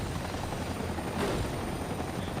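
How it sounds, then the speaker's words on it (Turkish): Helicopter in the video game Max Payne 3, a steady loud rotor and engine drone holding evenly throughout with a slight swell midway. "Ha, bir helikopterimiz eksik."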